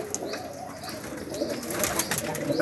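A flock of pigeons kept at a village loft softly coos and flaps wings nearby, soft calls rising and falling with bursts of fluttering, no voices.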